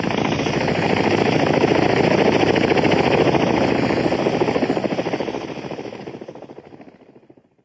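A helicopter's rotor chops rapidly and loudly nearby, a dense pulsing whir that holds steady before fading away over the last few seconds.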